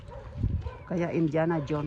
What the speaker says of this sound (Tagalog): Ang daming aso. Nag-aaw-aw.